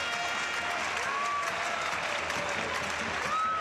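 Crowd cheering and applauding at a women's EuroHockey 2013 field hockey match between Belgium and Belarus, a dense, steady roar of many spectators filling the stadium, with faint whistles or shouts rising briefly within it.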